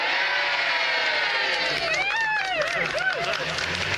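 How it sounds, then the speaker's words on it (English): A huge crowd cheers and roars along a Tour de France roadside in Ireland, a dense, steady wall of voices with rising whoops and shouts swelling midway through, loud and continuous throughout. "This is the biggest crowd so far, and the crowds have been big"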